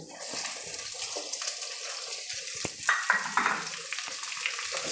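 Garlic, cumin and onion fry in a pan for methi toor dal, a steady bright sizzle running throughout with a few louder crackling bursts near the middle, close and fairly loud.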